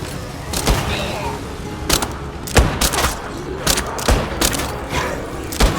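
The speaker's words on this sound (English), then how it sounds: "I can just chuck a bunch of grenades at this thing. Fire in the hole!" Several booming blasts from thrown grenades in the zombie survival game State of Decay 2, a string of sharp thumps spaced about a second apart over a steady background rumble.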